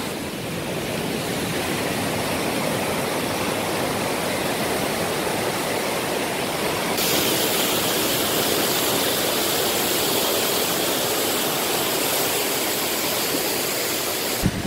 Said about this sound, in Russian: здесь столкнулись море и река